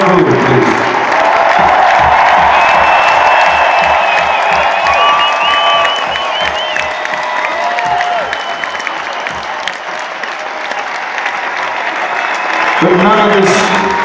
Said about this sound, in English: An enormous round of applause for all the crew, please.